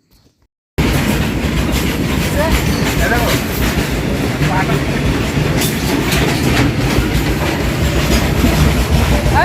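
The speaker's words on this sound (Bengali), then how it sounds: "একটু পরেই কিন্তু ট্রেন ঢুকে যাবে" A train arriving at a station in Varanasi rumbles loudly and steadily with rhythmic clattering wheels after a brief quiet start, the rolling noise filling the whole stretch.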